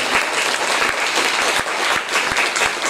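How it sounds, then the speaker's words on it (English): Audience at a fire forum clapping for a fire chief, a dense steady burst of applause from a room full of people, loud and close throughout. "Can we have a hand for Chief Goldstein?"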